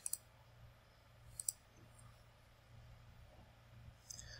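Computer mouse clicks, a quick double click at the start, another pair around the middle and a final click near the end, crisp and close over quiet room hum.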